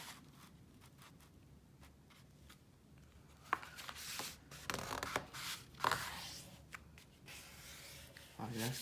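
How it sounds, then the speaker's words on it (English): Paper folded in half for a Thanksgiving drawing craft, giving soft rubbing and crinkling with a few sharper creasing scrapes in the middle, close and fairly quiet, with no talk. "So, first we'll fold this paper in half."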